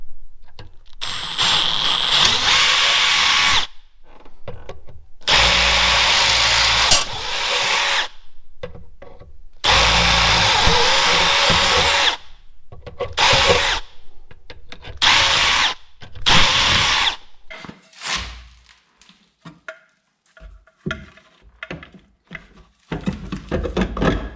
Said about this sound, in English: let's drill these holes. So we need to drill these 4 holes.